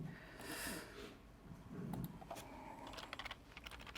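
Computer keyboard typing during a web search demonstration, scattered key clicks at moderate distance with a burst of quicker taps toward the end, no speech.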